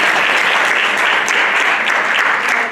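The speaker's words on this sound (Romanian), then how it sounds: "Haideți, vă rog, să-l aplaudăm pe Sorin Onișor, fotograf" An audience applauds a photographer at a media and marketing conference in a Bucharest hotel, steady dense clapping filling the room at an even level throughout.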